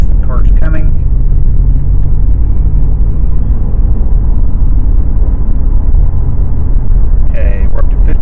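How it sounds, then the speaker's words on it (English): A car approaching and passing on a road, heard from inside a moving 2020 Ford F-150 pickup; steady low rumble of road and engine noise throughout, with brief faint voices near the start and end. "The car's coming."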